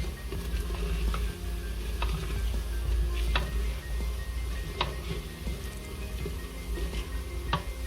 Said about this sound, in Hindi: इसमें मैं ये जो खुश्क मसाले हैं वो डाल दूंगी और इनको हल्का सा जो है वो भून लेंगे